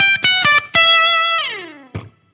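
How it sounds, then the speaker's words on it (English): Guitar double stops played through an effects pedal with a metallic, ring-modulator-like tone: several sharp chopped stabs, then a long note that bends downward and a final short hit, loud and close. "And there's that beautiful ring mod-esque double stop thing."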